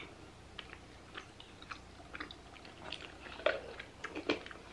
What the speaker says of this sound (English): Well, they're easy to chew.